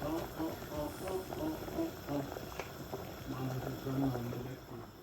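Potatoes boiling in a pot for potato chops, with a soft, continuous bubbling burble at moderate distance and faint tonal noises mixed in.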